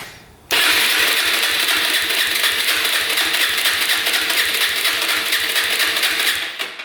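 A motorcycle engine cranks over steadily with the throttle held open and a jumper hooked up for a compression test, producing a loud, rapid, even whirring rhythm that starts abruptly and runs continuously for several seconds.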